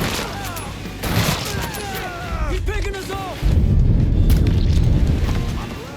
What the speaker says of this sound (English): At first I thought the shot feels too subtle or something, almost muffled like.